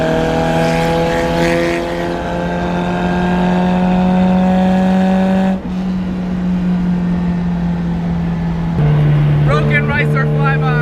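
A broken Honda CRX sounds as a loud, steady engine drone with strong harmonic tones, holding pitch for several seconds before the note shifts and drops.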